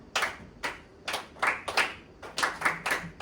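Rhythmic hand claps land in even groups to a counted beat during a classroom music lesson on rondo form with Für Elise, the sharp slaps close and clear with brief gaps between them.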